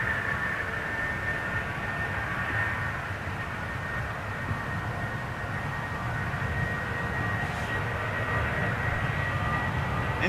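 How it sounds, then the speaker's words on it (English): Boeing 737 jet engines spool up at Amsterdam Schiphol airport, a steady distant roar with a faint high whine riding over it, continuous and even throughout with no voices. "Interesting that these 737s take longer to spool up than the others."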